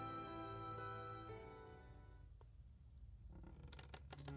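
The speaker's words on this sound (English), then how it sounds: "Begins to rain." Rain in the visual novel Fate/Stay Night: Heaven's Feel, a steady soft patter over a low background tone, thinning briefly midway before resuming with scattered drop hits.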